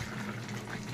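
Dissolved milk pours into a cooking pan of bitter gourd, eggplant, bori and mustard-poppy paste, giving a soft, steady liquid splash for about a second.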